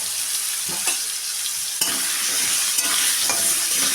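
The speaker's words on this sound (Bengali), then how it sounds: "আলুটাকে প্রথমে হালকা করে সব ভেজে নেব" Potato pieces fry in a pan for winter vegetable curry, giving a steady hiss of hot oil punctuated by a couple of sharp spatula knocks and stirring sounds, with no one talking.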